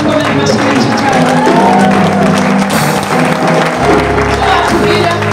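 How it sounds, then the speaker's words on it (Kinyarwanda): Loud applause and cheering from a church congregation during a worship service, broad clapping noise sustained throughout, with shouts and a preacher's voice over a musical drone and low instrumental tones. "amashyi menshi cyane"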